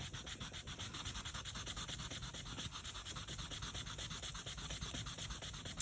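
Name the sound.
sand eraser rubbing ink off a stamped image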